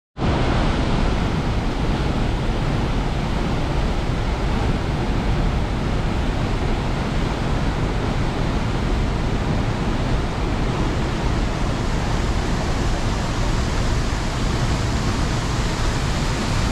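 Tegenungan Waterfall in Bali sends out a loud, unbroken roar of rushing, crashing water that stays close and constant throughout, with no voices.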